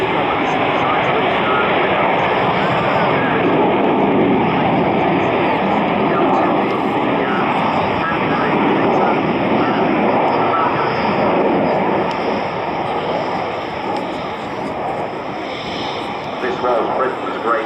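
Avro Vulcan XH558 jet bomber performing a flying display at Dunsfold, its jet engines producing a loud, steady roar that holds throughout with a slight swell and fade near the end.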